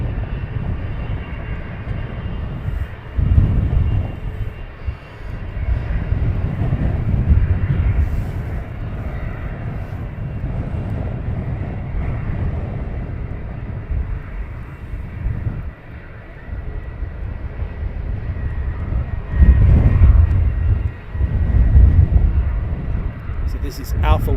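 An EasyJet airliner departs Luton Airport with a steady low jet rumble that runs throughout and swells louder near the end, while a voice talks over it.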